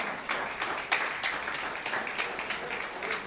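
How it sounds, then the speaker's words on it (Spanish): A church congregation clapping together in rhythmic unison, a steady moderately loud beat of many hands filling a large room with little talk. "Denle un aplauso al Señor,"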